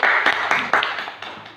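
A short round of several hands clapping in a classroom, a dense patter with a few sharper accents, fading out after about a second and a half.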